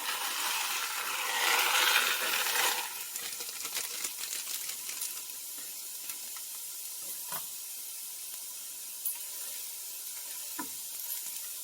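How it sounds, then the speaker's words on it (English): Dry fideo pasta is tipped into a skillet for chicken fideo pasta, giving a loud dry rattling pour for the first few seconds, then sparse light clicks and scrapes as it is spread across the pan. "next we're going to add the Fideo pasta. Put it on. And we're going to spread it evenly across the bottom of the pan"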